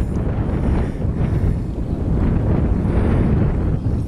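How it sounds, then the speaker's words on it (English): Strong wind buffets the microphone on an exposed coastal bank-top headland near a castle, a continuous low roaring rumble with gusty swells throughout, loud and close. "Just a touch breezy"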